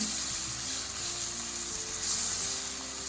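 Pork sizzles steadily in a pan, a close, even crackling hiss with a brief louder flare partway through and no talk.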